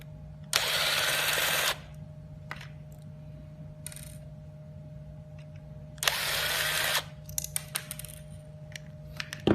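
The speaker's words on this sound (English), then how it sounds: "loosen the rear upper two screws here" Electric screwdriver loosening the rear upper screws on a Hikvision mobile DVR unit, two short close whirring bursts separated by quiet handling clicks and taps against a low steady hum.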